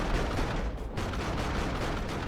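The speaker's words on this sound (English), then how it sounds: "I hear explosions." Explosions and bursts of gunfire in the real-time strategy game Dawn of War 2, a dense, continuous battle din of rumbling blasts, fairly quiet and without any speech.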